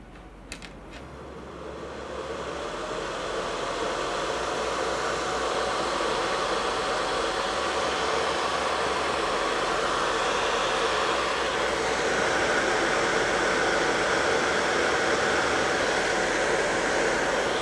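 A laptop cooling pad fan (IETS GT500 V2) spins up to its maximum 5,000 RPM and settles into a loud, steady whooshing roar, close by and continuous, with a faint whine beneath the rushing air.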